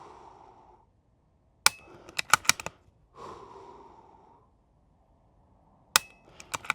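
.22 rifle shots ring out at an NRL22 match stage, two sharp, close cracks several seconds apart. Smaller quick clicks and taps fall between them in an otherwise quiet setting.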